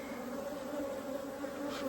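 Africanized honeybees swarm at the entrance of a Langstroth hive in a residential yard, a steady dense drone of many wings, close and continuous without pause.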